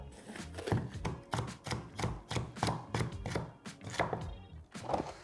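A knife chops green pepper on a board in quick, steady strokes, a rapid series of crisp taps with no talking.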